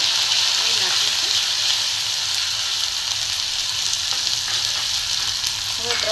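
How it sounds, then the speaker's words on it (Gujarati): Ginger, chili and garlic paste fries in a pan, giving a steady, loud sizzle that holds evenly throughout, with faint stirring scrapes near the end. "આદુ મરચાં અને લસણની પેસ્ટ નાખીશું."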